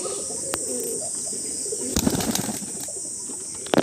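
Madrasi pigeons in a pigeon loft give off soft, steady cooing, with a few bursts of wing flapping and fluttering close by and no talking.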